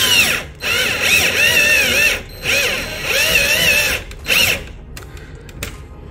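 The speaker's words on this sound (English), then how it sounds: "We can go ahead and drill that in." A power drill driving into a carbon fiber rear diffuser on a 2022 Genesis G70, with several loud whining bursts that rise and fall in pitch, separated by short pauses, ending in quieter clicks.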